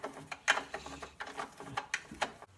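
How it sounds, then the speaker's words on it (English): A hand ratchet tightens the top bolts on the engine cover of a snowblower with a 10 HP Tecumseh engine, giving close, quick bursts of clicking pawl strokes, several in a row, with no talk. "we tighten up the top bolts"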